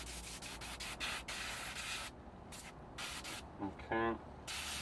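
An airbrush sprays thinners through in repeated short hissing bursts, some brief and some longer, broken by quiet gaps and a few small clicks and squeaks as the needle end is cleaned.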